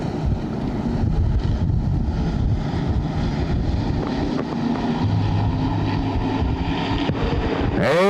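Race cars at Sanair Superspeedway roar at the start of the first final of an ACT race in 2006, a loud, dense engine din with wind buffeting. A car sweeps past near the end.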